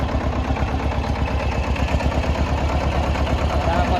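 Tractor engine chugging steadily at close range during a driving lesson, a low rhythmic idle-to-moving rumble with faint clatter that stays even throughout.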